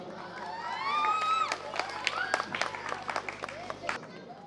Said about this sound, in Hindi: जोरदार तालियों के साथ अभिवादन करें।